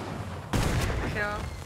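Sudden burst of gunfire in the video game Fortnite during a squad Battle Royale match breaks out midway, a rapid volley that lingers briefly with a faint voice near the end.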